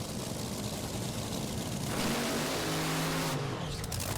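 Rick Ware Racing Top Fuel dragster doing a water box burnout at Bristol Dragway, a loud sustained engine roar with a rising then falling whine as the throttle is worked.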